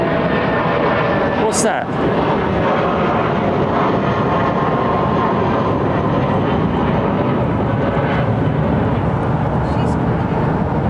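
A British Airways Boeing 777 departing Heathrow produces a loud, steady jet engine roar throughout, with a person speaking briefly over it.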